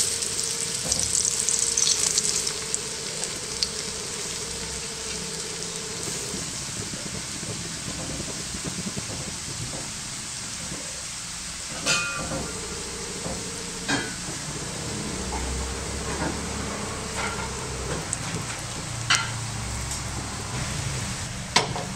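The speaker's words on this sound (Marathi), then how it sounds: "आता ही जी आपण कापं तयार करून ठेवली ती आपण सोडूया।" Slices of suran, elephant foot yam, frying in oil on a tava, giving a steady soft sizzle with occasional clicks and scrapes as the pieces are moved, all fairly close.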